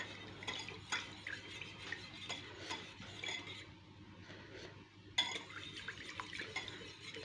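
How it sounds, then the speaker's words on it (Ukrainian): An egg mixture is stirred with a metal whisk in a bowl, a steady scraping and clinking of wires against the dish that runs continuously with brief louder taps, close and moderately quiet, with no talking. "Все це я перемішаю вінчиком."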